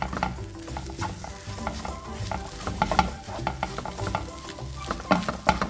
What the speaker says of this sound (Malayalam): എല്ലാം തോരൻ കൂടി ഒന്നിച്ച് മിക്സ് ചെയ്ത്